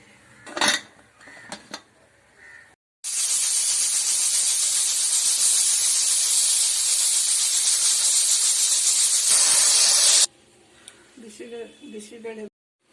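A pressure cooker holding rice, toor dal, vegetables and salt for bisi bele bath releases a loud, steady hiss of steam lasting about seven seconds, with clattering pots and talk before and after.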